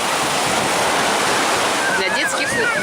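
Sea waves wash continuously onto a beach at Novomikhailovsky, a loud, dense rushing surf close to the microphone with no break.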